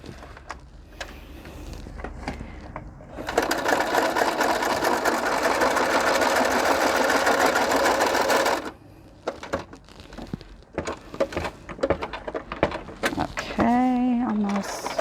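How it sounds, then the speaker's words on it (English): Sewing machine stitching around the edge of a handmade book, a loud steady run of about five seconds, then short stop-start bursts of stitching with handling noises and pauses. "I'm going to sew around this because it's not holding very well."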